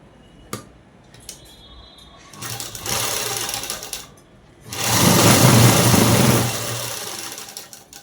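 An electric sewing machine stitches folded cloth for a collar-neck dress, running in two loud continuous bursts of rapid whirring with quiet pauses and small clicks between them, close up.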